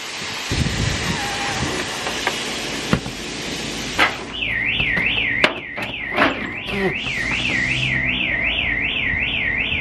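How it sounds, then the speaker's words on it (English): A car alarm on a flooded Audi RS3 starts wailing partway through, a loud rising-and-falling siren that follows a few sharp knocks and bangs over a busy background. "Where's an alarm going off?"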